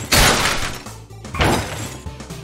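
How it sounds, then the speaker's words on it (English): Glass bottles break in the Milkman video game as two separate sharp shattering crashes with brief tinkling tails, loud and close with no voices. "I repeated the process for the glass bottles and added glass bottle breaking sound effects."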